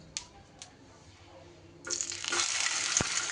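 Stuffed pointed gourd (potol) coated in cornflour frying in hot oil, a steady bright sizzle swelling up after two small taps, close and continuous to the end.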